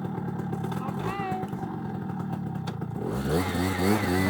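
A motorcycle engine runs and picks up revs as riders pull away on a twisty jungle road trip, steady and fairly close, with a rising, throbbing tone near the end and voices talking over it.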